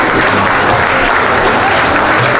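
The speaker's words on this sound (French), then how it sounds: "Merci pour vos applaudissements" Steady audience applause at a charity gala, a dense continuous clapping from a large crowd filling the hall, loud and sustained without a break.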